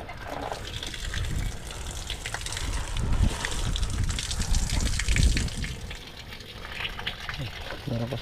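Water gushes steadily into a drum outdoors, a continuous splashing rush with uneven surges that stays moderately loud throughout.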